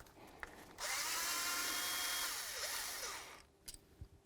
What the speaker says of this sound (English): The next thing we're going to do is remove our 10mm headed bolt right here.